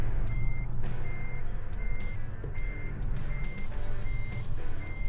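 Reversing beeps from a truck in American Truck Simulator, a loud regular series of high electronic tones, roughly one per second, over a steady deep engine rumble.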